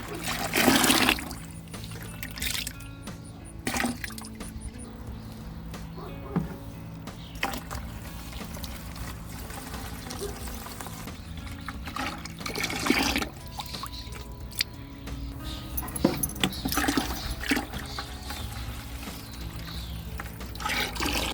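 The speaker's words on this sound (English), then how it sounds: "I am going to start adding my 5 gallons of water" Five gallons of water poured into a bucket while brewing worm tea, heard as splashing and trickling bursts that come and go, with quieter stretches of dribbling in between.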